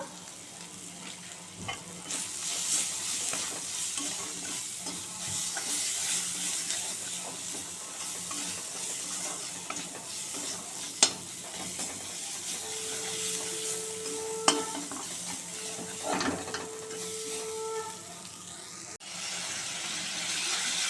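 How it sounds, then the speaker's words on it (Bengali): Spice masala with Kashmiri chili powder sautés in a pan, a steady close frying sizzle with occasional stirring scrapes and brief clinks, no voices. "আমার মশলাটা কষানো হয়ে গেছে"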